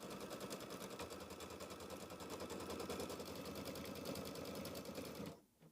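An embroidery sewing machine stitching a tack-down line to hold fabric for a mini quilt block, a fast even mechanical rattle running steadily before stopping abruptly near the end.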